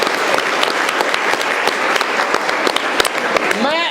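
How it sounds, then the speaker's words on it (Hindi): An audience at a Bihar government school claps loudly and continuously for the headmaster, a dense close burst of hand claps that stays strong throughout, with a voice breaking through briefly near the end. "एक बार प्रधानाध्यापक के लिए आप लोग ताली बजाइए, वो ताली कि वहां तक सुनाई पड़े"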